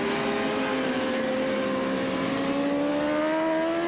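Endurance racing motorcycles, a GMT 94 bike and a Suzuki, battle at sunset at Oschersleben, heard as a steady, fairly distant engine drone whose pitch slowly climbs throughout, with no voices.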